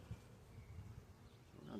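Honeybees buzz around a hive after a package install, a low droning hum with a few louder passes near the end, faint and close, without speech.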